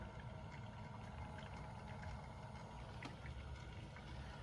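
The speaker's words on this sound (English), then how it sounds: "You can hear all the bubbles coming out and everything" Continuous gurgling and bubbling liquid churns steadily throughout, a dense watery rush with small pops from air bubbles in a BMW car coolant system while bleeding its electric water pump, fairly quiet and with no voices.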